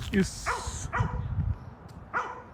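Several dogs bark in short, separate yips at a dog park in Rock Springs Park, Lawrenceville, Georgia, spaced about half a second apart over a low outdoor rumble, with people talking nearby.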